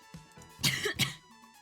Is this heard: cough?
yes